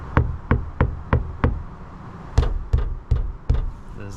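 Firm knocks on a 2024 Ford Transit van panel lined with sound deadening, five evenly spaced, a pause, then four more; each hit is dull and damped with little ringing, heard up close.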